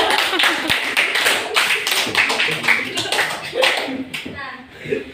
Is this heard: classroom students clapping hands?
yes